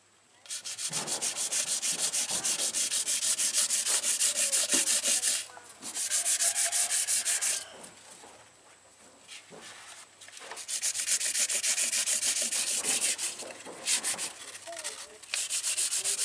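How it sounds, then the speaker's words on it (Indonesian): Rhythmic scratchy rubbing of hand sanding on a fishing boat hull, close and loud, pausing twice before resuming strokes. "Amplas lagi dulu."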